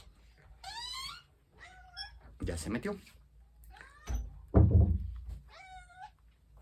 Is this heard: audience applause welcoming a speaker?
no